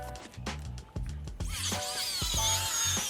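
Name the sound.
DeWalt 20-volt battery-powered circular saw cutting old roof deck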